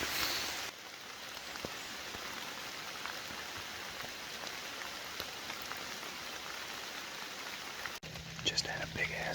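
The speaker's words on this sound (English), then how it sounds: "Maybe it's because it's raining." Heavy rain pours steadily during a public-land bowhunt in Illinois, a dense, even hiss of drops on the surface close by that runs unbroken through the whole stretch, with a brief shift in texture near the end.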